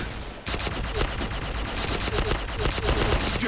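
Sustained automatic fire from a Penguin event weapon in a video game, rapid continuous shots rattling for about three seconds after a brief quiet start, loud and close.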